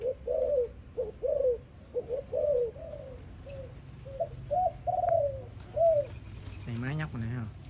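A Malaysian spotted dove coos in a repeated series of soft, rounded notes in a steady rhythm, fairly close, followed by a person speaking near the end.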